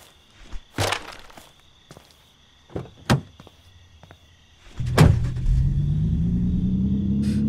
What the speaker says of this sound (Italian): Passa uno con la macchina